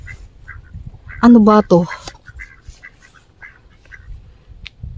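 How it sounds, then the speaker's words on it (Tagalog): Ducks quack in a forest park, a short run of several loud nasal quacks nearby, with quieter calls around them and a person speaking briefly over the outdoor ambience. "Duck pala yung iba."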